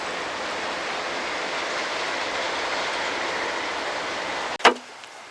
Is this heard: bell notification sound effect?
no